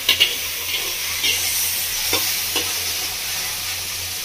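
Chow mein with mushrooms and salt being stirred in a hot pan, a bright steady sizzle with a few light spatula taps and scrapes, close and alone.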